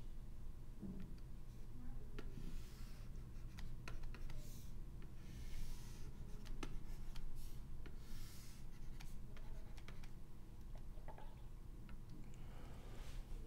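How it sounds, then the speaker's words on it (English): Marker or pen drawing axes by hand on a board or tablet for a calculus lesson, giving soft scratchy strokes and light ticks at close range over a steady low hum. "So I'll draw the axes first."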